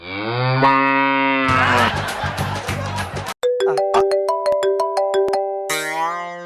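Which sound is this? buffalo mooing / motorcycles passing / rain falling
buffalo mooing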